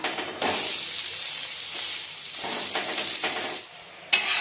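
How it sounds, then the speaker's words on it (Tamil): Ragi masala adai cooking with ghee on a hot griddle gives a steady, fairly loud sizzle that drops and surges as the pancake is turned, with a brief louder hiss near the end. "இப்போ நல்லா ஒரு சைடு அடை வெந்துருச்சுங்க. நம்ம அடையை திருப்பி போட்டுக்கலாம்."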